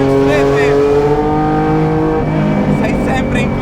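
A Lancia Stratos Alitalia Gr.4 rally car of about 300 horsepower drives hard with its engine loud and close, a steady buzzing drone whose pitch slides and shifts with the throttle, while a voice talks over it.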